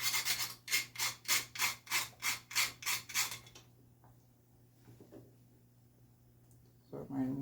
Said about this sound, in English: So this is my grate. I'm just gonna grate.